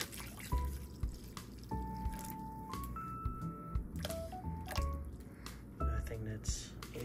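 Water trickles and drips into a lemon, pineapple and ginger drink, with short splashy pours interrupted by clinks and handling noises, while a person talks over it.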